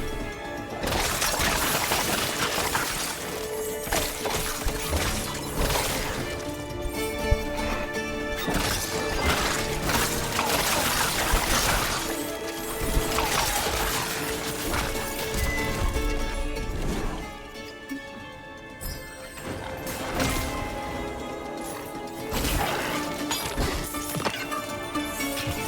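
Video game Hell Clock in combat, with dense smashing, crashing and thwacking kill impacts layered over busy game music, sustained and moderately loud throughout.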